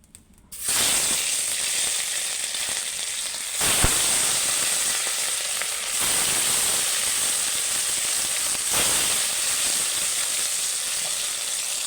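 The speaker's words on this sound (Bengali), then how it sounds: "কড়াতে আমি তেল দিয়ে দিয়েছি তেলটা গরম হয়ে গেলে এক এক করে মাছগুলো তুলে দেবো" Mrigel fish dropped into hot oil in a wok burst into a loud, steady sizzle after a brief quiet start, with a sharp clack and a few stronger crackling surges along the way, no talking.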